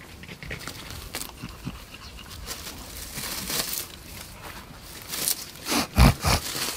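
Dogs pant and shuffle around a pile of pulled weeds on a lawn, with crinkling and rustling of the plants mixed in. Some louder, closer scuffs and thumps come near the end.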